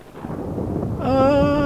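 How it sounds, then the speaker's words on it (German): A thunderstorm in The Sims 3, with a low rolling rumble of thunder building up loud, followed by a sustained tonal hum rising over it. "Ich mag das nicht, wenn es hier gewittert."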